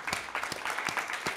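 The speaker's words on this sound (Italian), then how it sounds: "io farei un doppio applauso perché ha dovuto anche intrattenere" A small audience claps at a school Christmas party, with quick, uneven hand claps close by for a brief moment.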